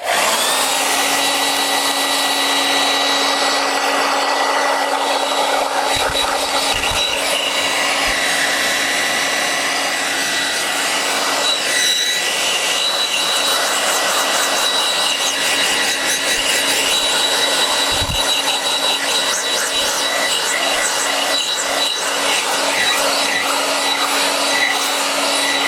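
A hair dryer blows steadily and loudly over a pink and purple watercolour painting, a continuous whooshing roar with a tonal whine that runs unbroken for the whole stretch, with no talking.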